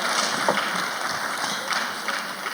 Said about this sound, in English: another round of applause for the very distinguished Senator Marjorie Chuba